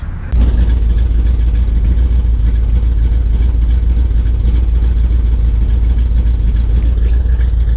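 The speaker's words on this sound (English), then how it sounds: "This thing hadn't been started in a long time, really, but still idles good." A Ford 351W V8 engine, long unstarted, idles with a deep, steady rumble that stays loud and close throughout after a brief start at the beginning.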